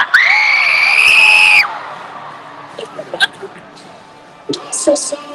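A high school event crowd lets out a loud, high scream that holds for about a second and a half and then cuts off, followed by scattered cheers, whoops and voices.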